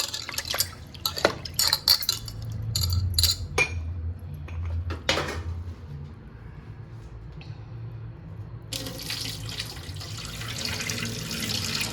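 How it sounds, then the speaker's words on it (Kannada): Lentils are rinsed in water in a home kitchen, with clinking of a metal vessel and utensil, splashing and running tap water, close and busy, ending in a steady water flow. "ಸ್ವಲ್ಪ ತೊಳ್ಕೊತೀನಿ ರೀ ಬ್ಯಾಳೆ"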